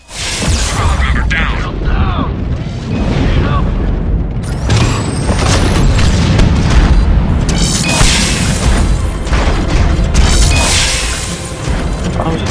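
A missile blast in the Mass Effect video game rumbles as deep, heavy booms and bursts through a dense combat mix, loud and close, with a voice talking over it.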